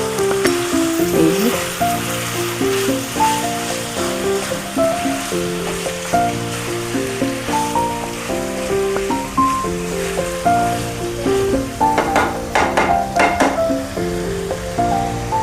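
Palak chicken frying and being stirred in a pan, a continuous sizzle with scraping and clinking from stirring, and a few sharper clatters near the end.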